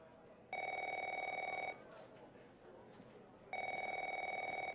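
A telephone rings in the video game The Operator, two long electronic ring bursts separated by a short gap, loud and close, with faint background noise between them.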